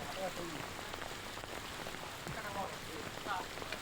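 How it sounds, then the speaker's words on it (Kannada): Heavy rain falls during a downpour in Karnataka, a dense, steady hiss of drops striking hard surfaces with scattered splashes, close and continuous, with no talking. "ಹಲವು ಜಿಲ್ಲೆಗಳಲ್ಲಿ ಭಾರಿ ಮಳೆಯಾಗಿದೆ."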